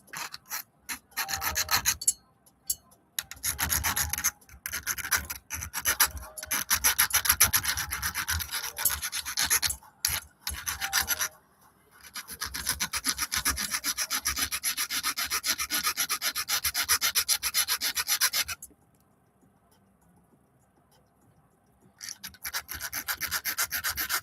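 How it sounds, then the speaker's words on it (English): A hand file works the end of a part for a WPL C44 FJ Bruiser RC car, giving close, steady rasping strokes in bursts with short gaps, then a long unbroken run, a pause, and more filing. "Now I'm just going to get my file. Just tidy up the end there."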